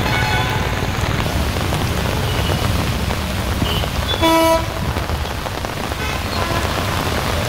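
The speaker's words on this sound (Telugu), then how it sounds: "పలు ప్రాంతాల్లో భారీ వర్షం కురిసింది" Heavy rain pours down on waterlogged Hyderabad streets in a close, steady drumming roar, with a car horn honking briefly midway through.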